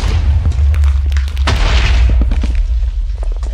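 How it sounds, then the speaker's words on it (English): Blocks of TNT detonate in the Minecraft mini-game Block Hunt, producing a string of deep, booming explosions that follow one after another at close range, loud and rumbling with no speech. "How about these TNT?"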